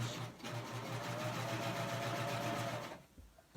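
A serger sewing machine stitching wired ribbon runs in a steady, close mechanical whir for about two and a half seconds, then stops, with a faint handling click afterward.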